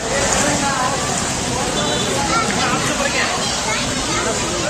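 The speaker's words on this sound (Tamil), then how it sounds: "திருப்பூர் மாவட்டம் உடுமலைப்பேட்டை மற்றும் அதன் சுற்றுவட்டார பகுதிகளில் கனமழை பெய்தது" Heavy rain pouring over Udumalaipettai in Tiruppur district, a steady dense wash of falling water with faint babble mixed in, loud and unbroken throughout.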